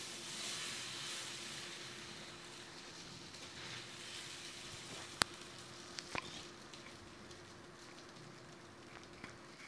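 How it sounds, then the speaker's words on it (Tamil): Dosa batter spread across a hot iron griddle, giving a steady low hiss of sizzling throughout, with a couple of faint sharp clicks partway through. "நல்லா சூடான பிறகு தோசை ஊற்றலாம். மொத்தமாக ஊற்றிக்கோங்க தோசை."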